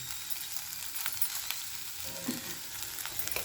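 Okra (bhindi) fries in a pan with a dense, even sizzle that holds steady throughout, close and fairly loud, with a few light clinks and no talking.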